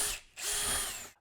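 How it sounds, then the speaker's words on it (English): A power drill bores through a go-kart chassis floor tray in two loud, close bursts, with a short pause between them and a sharp high whine before it stops. "now I've got my holes drilled"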